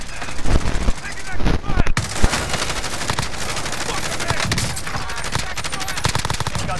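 Rapid, close gunfire rattles through a battle royale video game. Sharp bursts crack out at the start, then a dense, continuous stream of shots follows at high volume.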